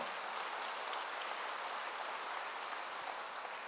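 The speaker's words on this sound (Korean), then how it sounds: "오늘 본 사람만 박수 한번 하세요" Korean church congregation claps in unison during a sermon, an even, sustained wash of hand claps with no voices over it, steady from start to finish.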